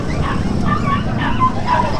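Dogs bark and yip at a crowded pet market on P. Lazaro Street in Bocaue, their scattered barks rising over a steady din of market noise and voices.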